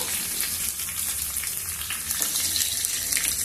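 Hot oil with mustard and cumin seeds crackles and hisses steadily as dried red chillies and curry leaves fry in a pan for cabbage dal, a dense, even sizzle with no talk.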